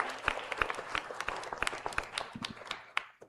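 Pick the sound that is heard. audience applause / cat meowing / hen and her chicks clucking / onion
audience applause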